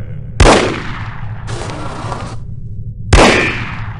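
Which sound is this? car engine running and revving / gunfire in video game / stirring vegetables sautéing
gunfire in video game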